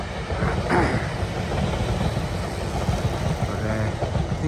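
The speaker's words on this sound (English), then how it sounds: "There's a train." A steady, heavy rumble of a train rolling past nearby, with a broad roar and rattling underneath that holds throughout.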